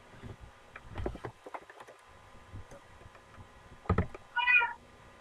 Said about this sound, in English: That's the riskiest meow ever.